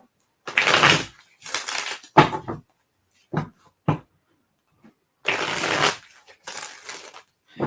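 Playing cards scattered after a spill are gathered up and shuffled, giving several bursts of close riffling and rustling separated by short pauses and a few sharp taps.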